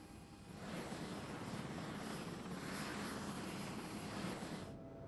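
Loud, steady helicopter engine and rotor roar heard close up from inside the aircraft, a continuous dense drone with no pauses that cuts off abruptly at the end.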